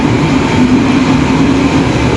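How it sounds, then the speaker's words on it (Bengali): Night sleeper train from Brașov to Baia Mare arriving at a Romanian station, a steady loud rumble of railcars rolling in with a low engine drone, continuous and near, with no talk. "আমাদের ট্রেন চলে আসছে দশ মিনিট আগে"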